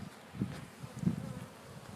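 Low buzzing hum of many honeybees in an open hive, steady and close, swelling in a couple of soft pulses.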